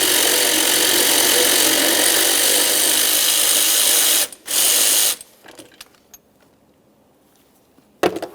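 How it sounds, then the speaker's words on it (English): Steady ratcheting buzz from a hand ratchet loosening a 10mm starter mounting bolt on a 2007-2017 Jeep Patriot 2.4L four-cylinder, loud and continuous for about four seconds, then a brief burst before fading into faint clicks and a final short clank. "For this mounting bolt, we're going to loosen it, but leave it in just a couple threads while we fully remove our final mounting bolt."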